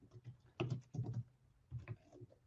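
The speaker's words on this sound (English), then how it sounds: "Then I'll have to type this one out." Typing on a computer keyboard, a quick close run of soft key clicks in uneven bursts with short pauses, fairly quiet.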